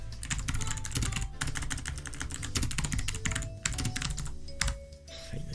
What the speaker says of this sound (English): Keyboard, man.